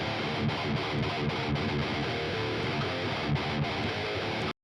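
Distorted electric guitar with a pronounced midrange bite plays a chugging riff, steady and loud with short palm-muted stops.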